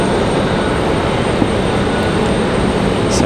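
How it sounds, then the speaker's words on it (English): An Airbus A320 departs Raleigh Durham International Airport, its engines a steady, loud broadband roar throughout with no talking. "It's headed out. It's an A320"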